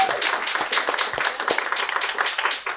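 Audience applause at a live storytelling show at Grove 34, with steady dense clapping across the whole stretch, fairly close and moderately loud, thinning slightly at the end.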